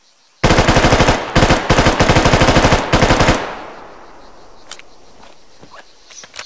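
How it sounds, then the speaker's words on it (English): Loud bursts of fully automatic fire from an M4A1 rifle in the Arma 3 RHS mod, four rapid strings of evenly spaced shots split by brief pauses, then a fading echo and light scattered taps. "This is the M4A1, which is fully automatic."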